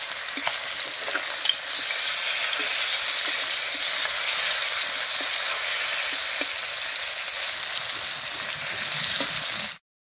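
Live koi fish frying in hot oil give a continuous bright sizzle with faint crackling pops, steady and close, ending abruptly in silence.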